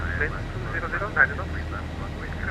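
Simulated Boeing 737 engines spooling up for takeoff in X-Plane 11, a steady droning roar with a low rumble and a brief louder swell partway through.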